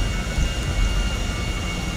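Airplane flying in the video game GTA Online, a steady loud engine drone with a sustained whine, continuous and unbroken throughout with no voices.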